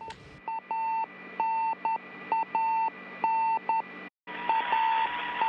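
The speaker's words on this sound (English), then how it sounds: "the beeping you're just continuing to hear is just a transponder beacon inside the Soyuz spacecraft" Transponder beacon inside a Soyuz MS-11 spacecraft during descent to landing, sounding as a steady series of loud electronic beeps in irregular short and long bursts over a constant radio hiss, with one brief dropout near the end.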